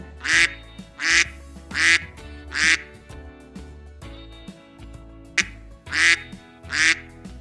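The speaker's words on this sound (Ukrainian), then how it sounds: "кря-кря-кря пливе по річці, їсть зерно, скубе травичку. Качка." Loud duck quacks in short bursts, about nine of them in a steady, repeated pattern, close by and clear.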